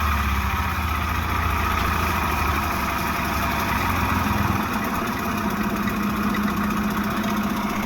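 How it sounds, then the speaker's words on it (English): A steady engine idle with a heavy low rumble and constant vibrating drone, close and continuous throughout. "Sure shakes like crazy, doesn't it, when it's sitting there idling?"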